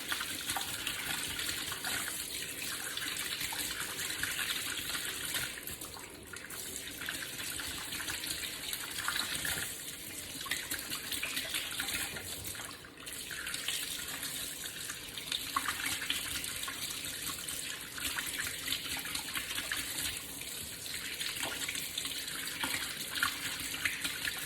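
A tap runs steadily as an object is washed beneath it, a continuous splashing gush with small fluctuations and brief dips where the item is moved through the stream.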